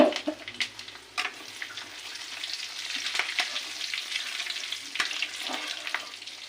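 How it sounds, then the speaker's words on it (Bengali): Cumin seeds and slit green chillies tempering in hot oil left from frying pumpkin, giving a steady close crackle and sizzle with a few sharper pops and spits, no voices over it. "এইবারে এই তেলেই আমি জিরে আর কাঁচা লঙ্কা ফোড়ন দিচ্ছি"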